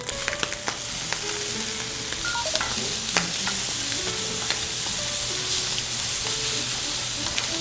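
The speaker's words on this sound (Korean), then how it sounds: "햄은 1kg 기준의 무에 200g의 햄을 볶아서 준비합니다." Ham, cooked for radish rice cakes, stir-frying with blanched shiitake mushrooms in a pan, giving a steady close sizzle with scattered scraping and clinking of the utensil throughout.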